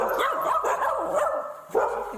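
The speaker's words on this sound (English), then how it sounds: "You're a cute little dog." A small dog barks and yips in quick, excited bursts inside a home, the sharp calls fairly close and steady across the moment with no talk over them.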